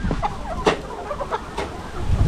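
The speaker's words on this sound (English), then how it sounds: "These are the birds now, still eating on the greens," Poultry birds on a farm cluck repeatedly while feeding on greens, a scattered run of short calls at close range with rustling in between and no talk.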